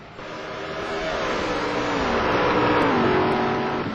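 Touring race cars compete closely at the Curitiba circuit. A loud, nearby engine drone rises and falls in pitch as the cars accelerate and shift through a corner, heard alone without commentary.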